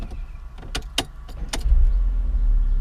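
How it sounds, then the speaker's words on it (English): A Mercedes CLA started the traditional way with a key: a few sharp clicks come first, then the engine cranks, catches and settles into a steady low idle rumble, close by and with no talk. "start the vehicle the traditional way"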